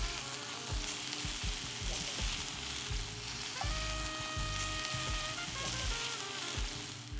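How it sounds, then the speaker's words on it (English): Rib eye steak pan-fries in olive oil with a loud, continuous close sizzle and scattered clicks and scrapes of the pan, over a faint tonal hum. "we're gonna pan fry"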